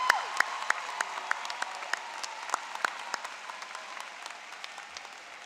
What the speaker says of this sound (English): would like to salute you with a round of applause